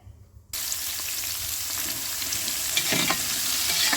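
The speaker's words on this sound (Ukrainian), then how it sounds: "Уже в свій казан додала, я додала цибулю, зараз додаю перець." Onion and pepper fry in oil in a kazan cauldron for ajapsandali: a loud, steady sizzle bursts in after a brief quiet start and crackles on unbroken, with faint stirring scrapes and no voices.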